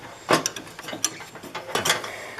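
A stuck pulley is worked loose from a John Deere mower deck, giving a few sharp metallic clicks and scraping rattles in uneven bursts, close and fairly loud.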